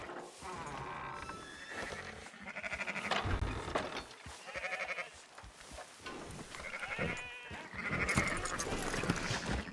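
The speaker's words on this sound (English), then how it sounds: "Fine sheep. They're okay." Sheep bleat repeatedly in the Red Dead Redemption 2 video game, a close chorus of overlapping wavering cries mixed with other livestock calls, steady and fairly loud throughout.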